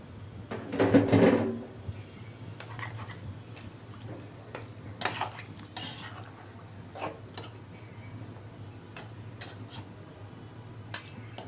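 Washed, chopped vegetable stalks are tipped into eggplant pieces cooking in a pan. One loud rustling tumble is followed by scattered light clinks and taps over a quiet background hum.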